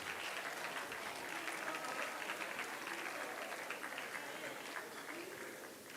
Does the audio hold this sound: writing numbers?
no